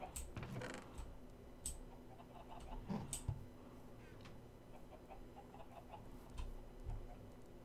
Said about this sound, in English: oh, I hear a lot of chickens.